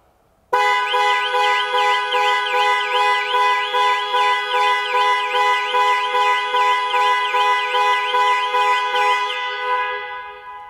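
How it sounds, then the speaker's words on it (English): A 2020 Jaguar F-PACE panic alarm horn blares in a rapid repeating pulse with a warbling tone, loud and steady for about nine seconds before cutting off and fading. "press 3 times in 3 seconds, and the horn will sound and the hazard lights will flash"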